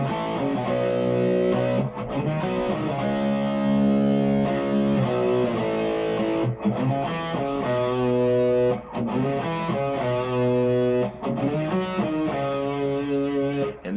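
Distorted electric guitar riff from a song, played through a Bixonix Axentrix A1 drive pedal, loud and steady with chugging repeated chords and brief gaps between phrases.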